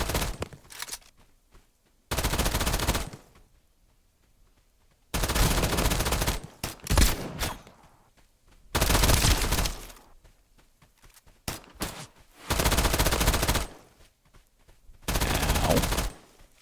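Several loud bursts of automatic weapon fire in the extraction shooter Escape From Duckov, dense rattling volleys a second or so long, separated by quieter pauses with occasional single shots.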